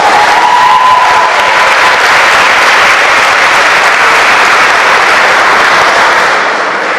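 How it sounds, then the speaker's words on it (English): Loud, dense applause from a large crowd filling a ceremony hall at Cleveland City Hall during a Hispanic Heritage Month opening, steady throughout and tapering slightly at the end. "Let's give our sponsors a round of applause."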